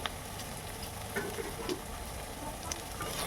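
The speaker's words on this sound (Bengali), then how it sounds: "টমেটোটিকে ভালো করে ভেজে নেব" Chopped tomato frying in hot oil in a pan, a steady close sizzle with occasional scraping stirs of a spoon against the pan, no voices.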